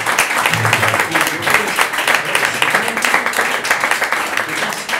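Audience at a book presentation breaks into sustained applause, dense overlapping clapping from a crowd at close range, with some voices and cheers mixed in throughout.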